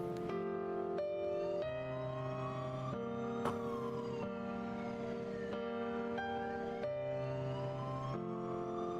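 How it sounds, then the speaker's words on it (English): Police sirens from a nighttime Shibuya scene in the video game 428 Shibuya Scramble wail in long rising and falling sweeps, steady and continuous for the whole stretch with no speech over them. "she could faintly hear the sound of police sirens."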